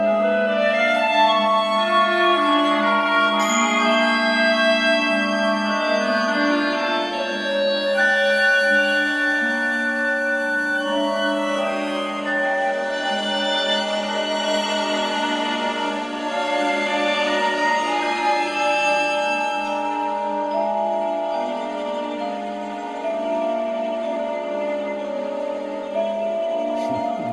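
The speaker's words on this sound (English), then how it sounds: "the pluck of the harp and a low shakuhachi flute sounding" Sustained, gentle instrumental music with soft plucked harp and a breathy low shakuhachi flute line, playing steadily at moderate volume with no voices.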